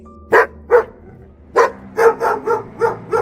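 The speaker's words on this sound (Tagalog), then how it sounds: "Nagulat ako nang marinig ko ang tahol ng aso" A dog barks nearby in a series of sharp, loud barks: two at first, a short pause, then a quicker run of about six more.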